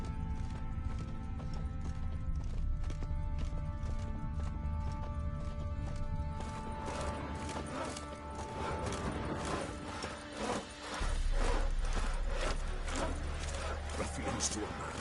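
Horse hooves clip-clop in The Witcher 3, a steady, rhythmic trot under game music and character dialogue, with a brief whinny along the way.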